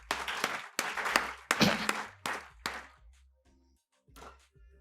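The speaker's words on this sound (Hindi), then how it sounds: "एक बार यहाँ पधारे सभी कवियों के लिए जोरदार तालियों" Applause for poets at a kavi sammelan on a radio program: faint, uneven bursts of clapping that come in waves and trail off into quiet gaps, with an occasional thump.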